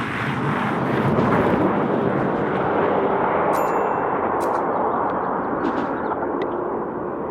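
A Cobra replica converted with a Tesla Plaid electric drivetrain accelerates hard, making a loud, jet-like roaring whoosh of wind and tire noise that builds and holds steadily, with a few faint metallic clicks near the end.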